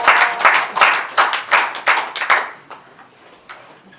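An audience at a Korean SDGs lecture claps after a talk, a burst of close applause that starts strong and fades within a few seconds to scattered claps.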